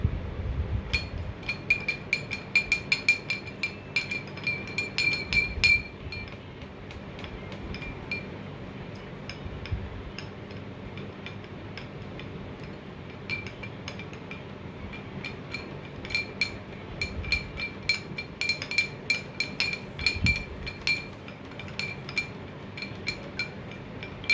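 A spoon stirring sugar into water in a glass, rapid bright clinks against the glass in bursts with a short quieter pause mid-way, close and alone without talk.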